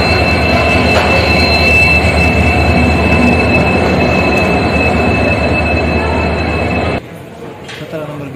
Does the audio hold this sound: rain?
no